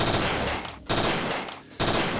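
Sustained rapid gunfire from the Parasite Eve 2 video game, dense continuous bursts broken by two brief gaps, loud and close with no talking.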